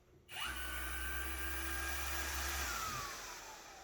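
A PioneerWorks 6-inch random orbital sander switches on and runs with a steady loud whirring whine, then spins down near the end, with no talk.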